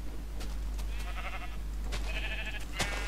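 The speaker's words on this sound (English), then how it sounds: "Wow, gray wool sheep." Several bleats from sheep in the Minecraft video game, repeated short calls spaced across a steady background hum, close and fairly loud with no talking.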